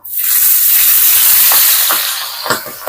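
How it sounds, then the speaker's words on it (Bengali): Pabda fish fry in hot oil with a loud, continuous hiss and sizzle, broken by a few soft crackles and spits near the end. "মাছগুলো ভেজে নিলাম"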